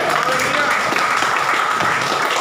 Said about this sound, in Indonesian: Berikan tepuk tangan bagi Dia.